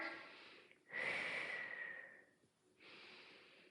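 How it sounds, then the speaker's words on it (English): Deep breathing during an upper-body workout circuit, with a long audible breath, a quieter pause, then another breath, all close to the mic but faint. "Inhale and exhale. Inhale, exhale. Inhale, exhale."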